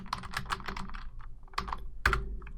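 Keys clatter on a computer keyboard as a path is typed into a Windows folder window, a close quick run of taps, a pause, then a few sharper strokes near the end.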